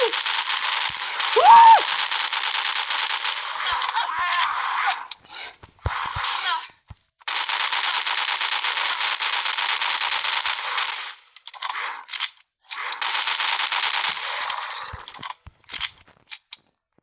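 Rifle fire in the horror video game Death Park 2, heard as long sustained bursts of rapid gunshots broken by short pauses, loud and close, with a brief vocal sound near the start.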